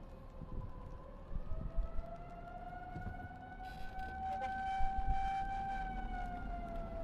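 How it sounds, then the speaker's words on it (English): Sirens wail across Corinth during a storm warning, a distant rising and sustained tone over faint wind and background rumble. "You can still hear the sirens right now."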